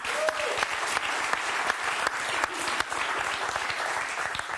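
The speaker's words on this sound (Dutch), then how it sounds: "Even een groot applaus." Studio audience applauds a table tennis player after a serve demonstration, a dense, steady wash of many hands clapping close by with a few sharper individual claps, no voices over it.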